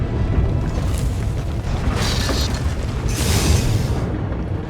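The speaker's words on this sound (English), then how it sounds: "The ground quakes will not impede me." A heavy ground quake rumbles through a drilling platform battlefield in Star Wars: The Old Republic, a loud continuous booming roar with bursts of crackling debris, alone and without speech.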